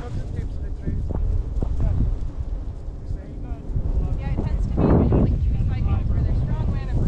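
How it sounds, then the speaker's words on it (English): Wind buffets a microphone in low rumbling gusts at a hillside glider pilot's seat, swelling stronger toward the end while people talk over it. "There's another wind gust coming."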